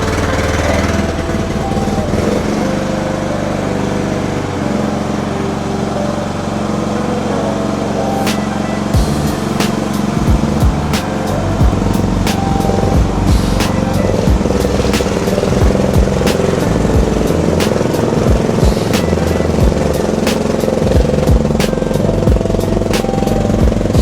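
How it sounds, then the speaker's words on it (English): A mini skid steer's small engine cranks, catches and runs, with a loud, steady, close-up rumble and rhythmic mechanical knocking that continues throughout. "I wonder if the mini skid steer will start up"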